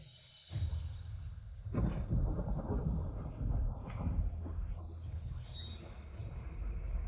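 A rumble of thunder with heavy rain comes as a broad, roaring wash that swells after a brief quiet start and stays steady and loud throughout.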